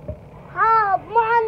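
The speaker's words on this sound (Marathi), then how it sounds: "मांजर" A cat meowing up close, two drawn-out, rising and falling meows in quick succession after a short pause.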